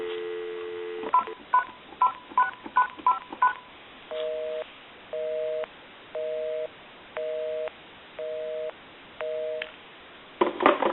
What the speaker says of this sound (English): I'll call my number, and it'll be busy. Give you some dial tone.